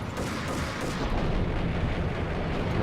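A grenade explosion in the video game Max Payne, a heavy rumbling boom that rolls on and stays loud throughout the short stretch.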